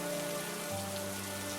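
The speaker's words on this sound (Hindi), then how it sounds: "बारिश बहुत तेज है।" Heavy rain pours steadily in an animated story, a dense continuous hiss of drops hitting surfaces, joined partway through by a low sustained droning tone beneath it.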